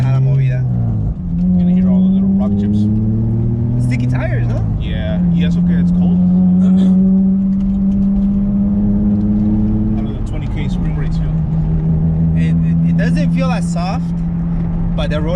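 A 2008 Honda Accord EX-L drives along a rough road, its engine drone climbing steadily in pitch and then dropping back at each gear change. The sound is loud and continuous, with scattered rattles and knocks.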